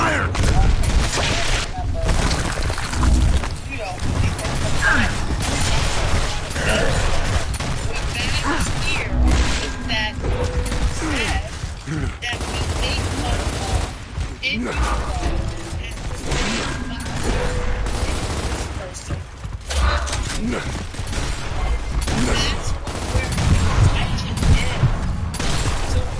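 Gears of War combat plays out as dense bursts of rapid gunfire, impacts and mechanical clatter under in-game shouted voices, continuous and loud from start to finish.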